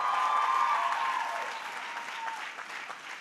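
Audience applauding during a commencement address at Barnard, a broad dense wash of clapping that starts strong and slowly thins over about three seconds, with no talk over it.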